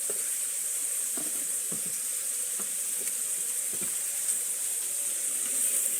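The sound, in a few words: steak searing in a pan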